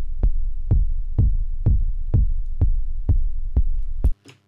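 A synthesized techno kick drum with a deep rumble tail, made in Ableton, thumps nine times at a steady pulse, loud and close with a punchy attack, then cuts off with a brief trailing blip.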